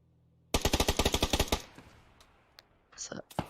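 Rapid burst of automatic gunfire from a PUBG esports match, about a dozen loud evenly spaced shots over a second, followed by scattered faint shots and a brief flashbang-like burst as commentators talk.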